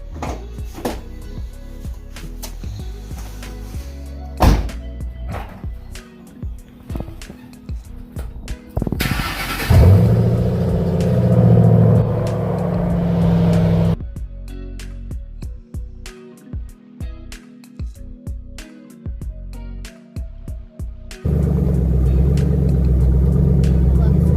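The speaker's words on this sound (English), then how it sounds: "Who wants to hear a cold start?" A Ford Mustang engine cranks on a cold start and catches, settling into a loud steady idle with some mechanical clatter and brief handling noises before it.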